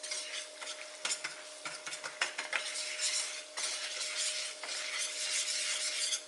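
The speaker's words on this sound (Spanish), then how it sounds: "Vamos a remover con una varilla." A metal whisk works a butter and flour mixture in a pot to keep out lumps, giving quiet rapid scraping and clinking strokes in uneven bursts over a faint background hum.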